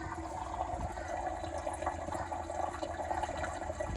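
A water pump filling a cheap hydroponics system holding about 20 kilos of water, a faint, steady gurgling rush like a flushing toilet, continuous and even.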